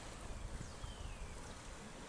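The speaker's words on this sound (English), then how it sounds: "That's what I always like when the waves afterwards come." Waves washing in after a boat passes on open water, a continuous broadband rush of surf with wind noise buffeting the microphone, steady and fairly close, with no talk.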